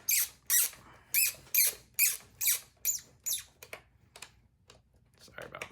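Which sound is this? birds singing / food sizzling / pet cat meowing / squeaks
squeaks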